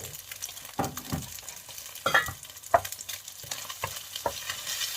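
Rice is stir-fried in lard in a pan, close-up, with soft sizzling under repeated scraping and tossing strokes from a spatula, coming in irregular bursts.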